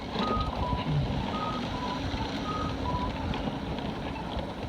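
A pedestrian crosswalk signal at a street crossing emits a regular series of short, evenly spaced beeps, moderately faint above a constant rumble of passing traffic.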